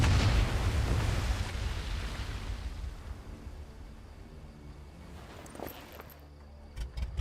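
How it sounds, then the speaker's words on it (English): An explosion in the World War II video game Medal of Honor: Above and Beyond opens loud and broad, then its low rumble decays over several seconds, ending with a few faint clicks and knocks. "That explosion got the attention of all the German patrols in the area."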